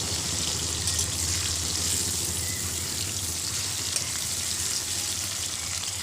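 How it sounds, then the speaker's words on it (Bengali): Onions fry and are stirred in hot oil, making a steady, dense sizzle that stays even and close throughout with no voices. "তো পেঁয়াজগুলো সুন্দরভাবে তেলের সঙ্গে নেড়ে চেড়ে ভালো করে নরম করে নেব।"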